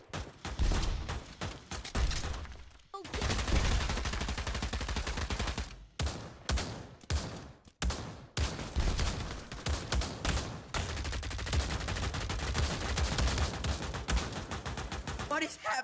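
A flak cannon in the video game Pavlov fires in long, heavy, continuous barrages broken by short gaps, loud and close throughout, with voices talking over the shooting.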